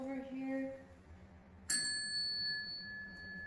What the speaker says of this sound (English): Can you ring this bell over here?